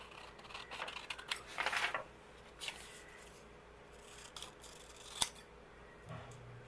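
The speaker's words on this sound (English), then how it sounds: "I'm just going to cut it out with the scissors here" Scissors cut through paper at a crafting desk, with a few close snips and rustles clustered early, then scattered quieter cuts and one sharp click, all against low room hiss.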